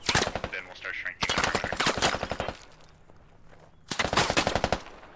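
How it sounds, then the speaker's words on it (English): Machine gun fire in the military shooter Squad rattles out in three loud, dense bursts, with a quieter pause in the middle and possible voices beneath. "It's actually an MG."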